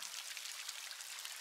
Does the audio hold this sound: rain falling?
yes